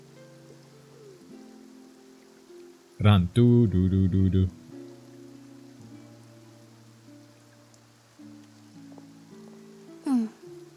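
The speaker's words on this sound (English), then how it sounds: "Looks like rain." Rain falling in Genshin Impact: a steady, soft hiss of rainfall under sustained game music tones, with a brief loud burst of voiced game sound partway through and short speech.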